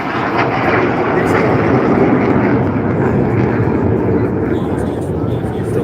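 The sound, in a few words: jet aircraft flying with afterburner at an airshow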